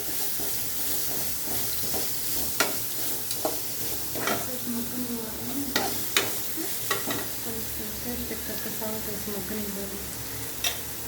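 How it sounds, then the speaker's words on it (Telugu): Grated carrot stirred in a pan over a medium flame, a steady soft sizzle of frying with scattered scraping clicks from the spoon against the pan, close and continuous without talk. "ఇప్పుడు తురిమిన క్యారెట్ వేసుకొని మిక్స్ చేసుకోవాలి"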